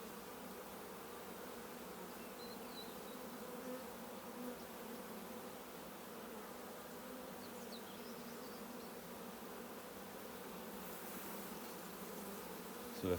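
A steady, low hum of many wasps buzzing continuously around a honey bee hive, fairly faint, with no voices.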